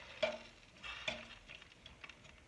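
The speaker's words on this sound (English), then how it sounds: "just keep stirring around until you get all those little good flavor bits up off the bottom" A spoon stirs and scrapes browned bits off the bottom of a pan while making a venison pan roast. Faint, sporadic scrapes and light ticks sound close by with no talking.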